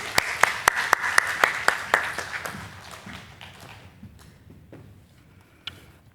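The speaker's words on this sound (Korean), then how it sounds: "우리 박수로 격려해 주시겠습니다." A church congregation claps to welcome a deacon about to give a testimony, starting with several loud rhythmic claps that blend into scattered applause and thin out to a few isolated claps.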